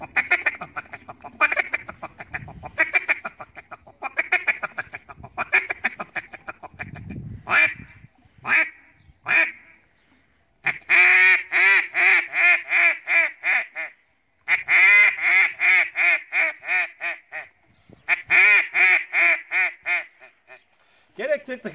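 A duck call imitates quacking in rapid runs of nasal, rasping quacks, with pauses between bursts and a few low murmured sounds early on.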